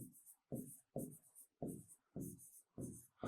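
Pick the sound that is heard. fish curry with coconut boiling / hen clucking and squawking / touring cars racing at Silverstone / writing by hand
writing by hand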